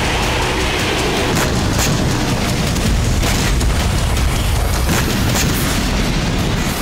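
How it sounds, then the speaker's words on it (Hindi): Continuous loud, rumbling explosions from Hezbollah weapons depots and rockets after Israeli bombing on the outskirts of Beirut, a dense, roaring blast noise with repeated bursts and no let-up. "ये धमाके हिजबुल्लाह के रॉकेट और हथियारों से हो रहे हैं।"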